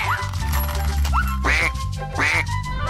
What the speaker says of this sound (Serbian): To je patka.